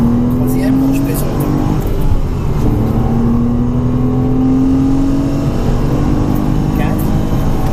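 A Porsche Cayman S pulls hard at full throttle around the Mettet circuit, its engine note climbing steadily in pitch inside the cabin, loud and sustained under a voice talking.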